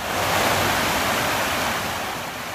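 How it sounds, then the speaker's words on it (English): The Great Brook in Plainfield, Vermont, running high after flooding, gives off a steady, loud, broadband rush of water that fills the whole stretch without a break and with no voices. "behind me is the Great Brook"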